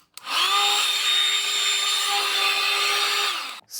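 A mini rechargeable vacuum cleaner being screwed back together after a repair: a single close, high motor whine lasts about three seconds and then cuts off.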